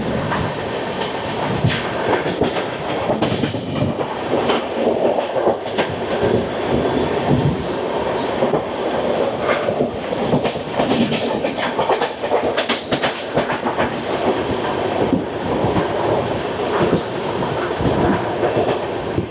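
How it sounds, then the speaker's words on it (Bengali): The 12704 Secunderabad–Howrah Falaknuma Express passes nearby, rail wagons rumbling loudly with continuous clickety-clack from the wheels and occasional squeals, with no talk over the noise. "এবার আমাদের সঙ্গে দেখা হবে ট্রেন নাম্বার 12704 সেকেন্দ্রাবাদ থেকে হাওড়া ফলাকনুমা এক্সপ্রেস।"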